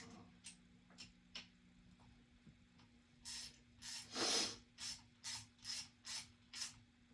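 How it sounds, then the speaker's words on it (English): Socket wrench ratcheting while tightening screws on an FX Panthera air rifle during a valve rod leak repair: quiet scattered clicks at first, then a run of rhythmic ratchet strokes, close and distinct with no talking. "I'm going to use a socket because I want to make sure it's nice and tight."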